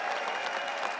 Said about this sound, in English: we should all applaud him